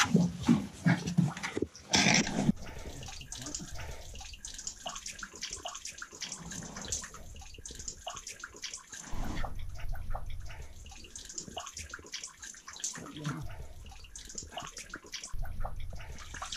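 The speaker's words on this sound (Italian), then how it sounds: "abbondante stillicidio che c'è oggi dopo una giornata di pioggia" After a day of heavy rain, water drips and trickles into the small stone basins of a fountain. The flow is faint and continuous, broken by a few louder splashes, with no talk.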